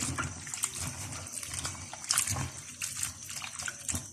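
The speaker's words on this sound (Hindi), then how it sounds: "अब इनके अंदर पानी डालूंगी" Water is poured over and splashes around squeezed bitter gourds as they are washed in a kitchen, making a steady trickle and patter with small splashes throughout.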